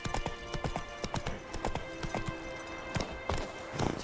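Roach, Geralt's horse in The Witcher 3: Wild Hunt, gallops in a steady run of hoofbeats, clear and close, with faint background sound and no talk.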